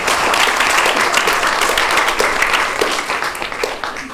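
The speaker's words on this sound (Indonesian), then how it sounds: "Mungkin Bapak Ibu boleh beri tepuk tangan sekali untuk mereka" An audience claps loudly and steadily for a class drama performance at a school drama festival. The applause is dense and continuous throughout, close and full, with no talking over it.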